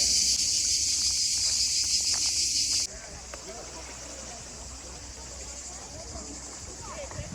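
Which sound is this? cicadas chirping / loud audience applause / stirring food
cicadas chirping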